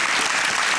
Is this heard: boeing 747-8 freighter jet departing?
no